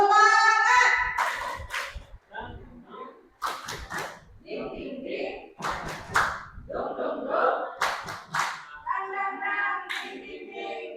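Teachers and adults join in the 'tepuk semangat' rhythmic clap chant, shouting syllables in unison punctuated by sharp clusters of hand claps, with a leader's voice talking between the bursts.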